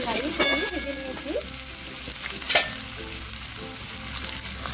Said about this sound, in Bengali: একটু নাড়িয়ে চাড়িয়ে ভেজে নিচ্ছি।